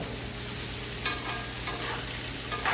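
Garlic and butter frying together in a pan, a close, continuous sizzle with a few brief scraping stirs and no voices.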